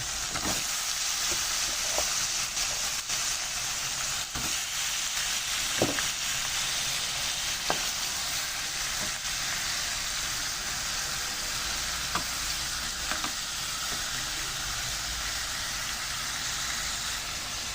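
Cleaned fish fries in a pan with sautéed aromatics, a constant close sizzle of hot oil with scattered sharp crackles and pops over a long stretch.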